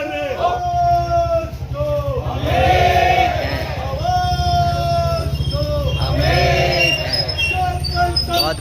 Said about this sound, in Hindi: बहुत बड़ी भीड़ हो चुकी है अब मसाल रैली में।